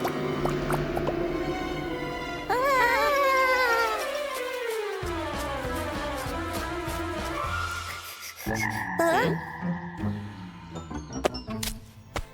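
A cartoon frog croaks in wobbly, sliding tones over a bouncy musical backing, with a few squishy, dripping effects near the end.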